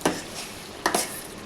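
Raw prawn curry fries in a pan: two quick scraping stirs of a utensil sound close over a faint sizzle.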